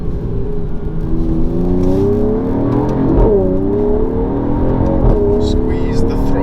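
A Mercedes-Benz GT53 AMG engine rises steadily in pitch as it accelerates, a smooth loud drone heard from inside the car with a brief dip and climb midway.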